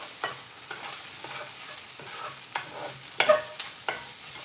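Onions and garlic frying in a pan with seasoning added, a steady low sizzle broken by repeated stirring scrapes and clatters at a close, moderate level, with no voices.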